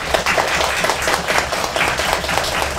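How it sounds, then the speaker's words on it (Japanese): An audience claps hands in a show-of-hands vote at a live fan event, a brisk, sustained patter of many hands clapping close by, with no talking over it. "一番下手れそうなのは安行きだと思う人拍手。"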